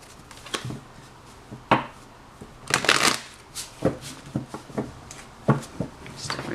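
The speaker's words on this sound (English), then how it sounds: "Let's shuffle a bit." Tarot cards are shuffled by hand in irregular bursts of crisp riffling and soft slaps, close and fairly loud, with short pauses between handfuls.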